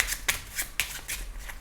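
Tarot cards laid down over other cards, giving several quick soft slaps and shuffling swipes of card stock in a short, close sequence.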